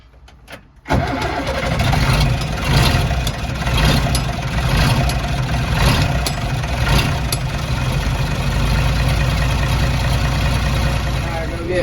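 A diesel farm tractor on an organic dairy farm cranks and fires, then settles into a loud, steady idle with a rough rumble close by, and a voice speaks over it.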